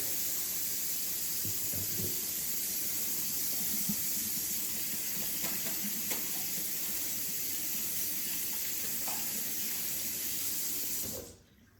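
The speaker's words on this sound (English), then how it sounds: "So let me wash my hands real quick." Hand washing at a kitchen sink, with a tap running in a steady, even hiss of water for about eleven seconds, small splashes now and then, before it shuts off abruptly at the end.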